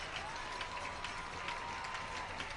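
Soccer crowd at a high school boys' state championship match cheering and applauding, a steady dense wash of claps and voices at moderate distance throughout.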